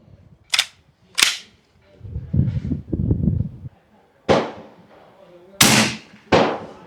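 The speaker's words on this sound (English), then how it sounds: "the classic AEA dry fire because the magazine has a big ass hole in it" A BinTac PA 30 pump-action air rifle snaps through several sharp, separate dry-fire cracks spaced unevenly, close and loud, with a short burst of low rustling and handling in between.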